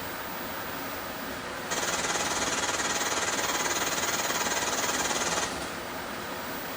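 Arcade sound effect from the 1981 Taito Qix video game: a steady buzzing, rattling electronic drone that rises to a brighter, louder tone for a few seconds, then drops back to a lower hum, no speech.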